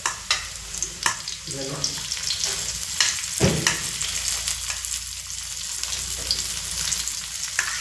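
Onions sizzle and crackle steadily as they fry in a pan, with intermittent scraping stirs. A brief spoken word is heard near the start.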